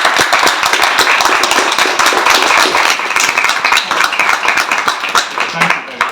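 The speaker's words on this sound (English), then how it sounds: "can we have a round of applause for people organising?" A small audience at a queer hustings event applauds, dense clapping that stays fairly loud and even throughout before thinning slightly near the end, with some voices mixed in.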